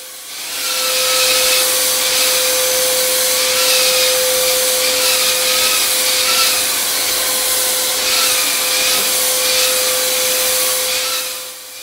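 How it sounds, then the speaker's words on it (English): Electric drywall sander with six speed settings working over plaster joints, a steady, loud whirring hum with a constant tone and a rough scraping texture, running alone for about ten seconds. "This particular sander's got 6 speed settings, and I'm just running it on 6 is fast, 1 is slow."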